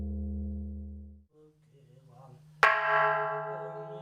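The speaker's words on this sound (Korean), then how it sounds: "새벽 예불을 알리는 종소리와 함께 산사의 하루가 시작된다." A Buddhist mountain temple bell in Yecheon, Gyeongbuk, struck for the dawn service, with a single loud strike followed by a long ringing, humming decay, after a low droning tone and some faint background sound.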